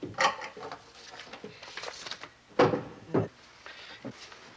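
A bottom drawer in a home is pulled open to fetch writing paper, giving a series of wooden knocks and sliding scrapes with a sharp clack near the end, close and alone.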